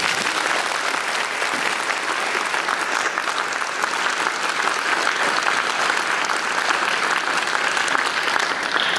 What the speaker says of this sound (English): Please join me in applauding these distinguished alumni of Kirkwood High School.